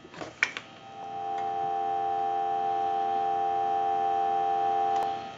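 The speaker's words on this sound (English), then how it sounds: "We'll give you some dial tone." A steady telephone dial tone on a Western Electric 302 rotary desk telephone hums continuously after a few faint clicks at the start, then cuts off with another click.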